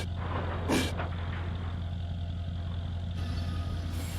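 Locomotive braking in Run8 Train Simulator V3: a steady low mechanical drone and broadband rumble run throughout, with a brief sharp burst of hissing air near the start.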